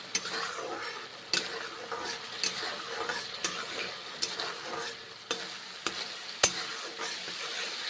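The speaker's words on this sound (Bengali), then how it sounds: "মশলা ধোয়া জল দিয়েছি কষে নিচ্ছি মশলা" Spice paste for a mixed vegetable curry frying in a pan with a splash of water, a steady close sizzle punctuated by regular sharp scraping strokes of the spoon about every second.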